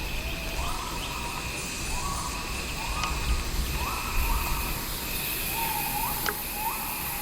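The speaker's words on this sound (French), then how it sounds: "Des insectes." Regular chirps pulse in short repeated bursts over a steady hiss of ambient noise in a layered soundscape, with a faint tone held beneath them.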